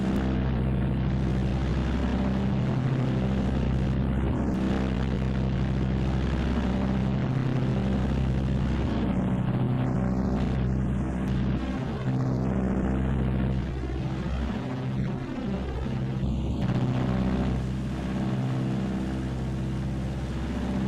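Martin B-26 Marauder bomber climbing in flight, its radial piston engines giving a loud, steady, droning roar that holds throughout with slight swells.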